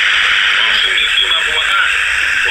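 A Produx pocket radio tuned to a medium wave station gives off dense, hissing static with muffled broadcast sound underneath, steady and loud throughout.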